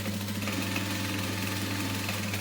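A sewing machine top stitches fabric on a small card-slot wallet, its motor giving a steady, close, continuous whirring hum throughout.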